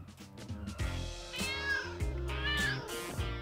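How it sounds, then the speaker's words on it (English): A cartoon cat meows several times in the Lego City Undercover video game, with short rising and falling cries over a steady game music bed and no talk. "come on, little kitty"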